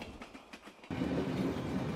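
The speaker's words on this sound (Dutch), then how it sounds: "De machinisten van de Intercity zien een goederentrein passeren." A freight train passing on rails rumbles in abruptly partway through, a steady loud low roar with clattering wheel noise after a quieter rhythmic lead-in, no voices.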